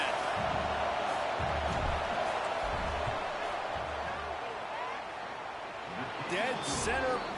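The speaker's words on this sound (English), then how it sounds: "This crowd trying to do its part to get inside the kicker's head." A packed college football stadium crowd roars steadily at Notre Dame during a field goal attempt, a dense unbroken wash of noise with an announcer's voice running over it.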